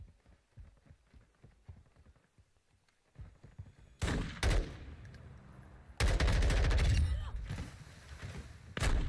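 Automatic gunfire from a Call of Duty Modern Warfare II free-for-all match, loud dense bursts after quieter game sounds, with a second sustained volley closing the scene.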